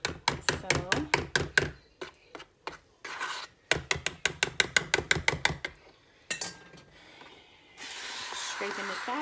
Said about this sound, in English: Scraping the sides.